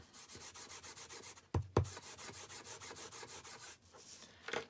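An embossing buddy pad is rubbed back and forth over a card in quick, even strokes, making a soft close scuffing rhythm broken by a couple of light taps midway.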